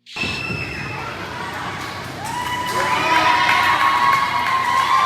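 Wrestling crowd at a CWG show erupting into a loud sustained whoa and cheering, with shouts and whistles swelling near the end after a wrestler leaps and is caught with a chop.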